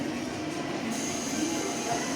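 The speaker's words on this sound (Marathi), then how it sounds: "आपली ट्रेन पण आली आहे" Continuous rumbling and hum of a train rolling slowly into Diva station, steady and fairly loud with a faint metallic whine on top.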